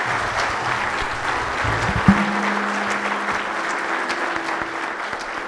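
Steady applause from a congress audience on law and legal argumentation, farewelling the first speaker; dense clapping continues evenly throughout, with a low hum and a brief thump partway through.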